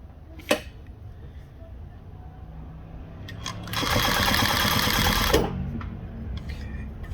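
A Juki DU-1181N walking-foot sewing machine stitches through thick brown material in one steady, loud burst of about a second and a half. Quieter handling sounds and a single sharp click come before it.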